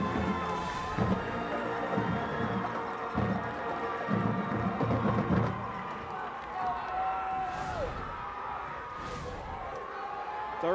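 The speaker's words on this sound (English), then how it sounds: "Crowd is still here. Big crowd." A large crowd at a high school football game between rival schools Central and Gibbs, a steady wash of cheering and shouting with thumps and whoops, heard under continuous commentary.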